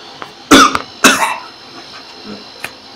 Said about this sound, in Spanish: Tengo un poquito de tos.